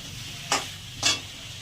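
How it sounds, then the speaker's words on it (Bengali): Spices and two small tomatoes sautéed in a pan: two short, bright scraping strokes of stirring over a faint, steady background sizzle. "যে মশলাটা দিয়ে দিচ্ছি, ভালো করে কষিয়ে নেব।"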